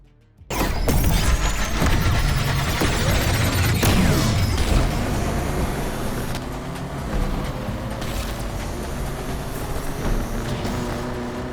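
A car in Need for Speed Unbound launches abruptly from near silence into a loud, sustained engine roar that climbs through gears, staying close and steady.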